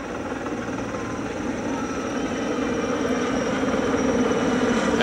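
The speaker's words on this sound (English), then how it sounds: "The sky crane begins to move away." Steady droning rumble of a sky crane helicopter at a distance, moving away, holding constant and swelling slightly louder toward the end.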